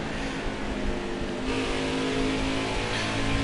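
A 1990 Ferrari race car in a racing video game, its engine roaring continuously at high revs, loud and close, the pitch shifting as it accelerates partway through, with no talk.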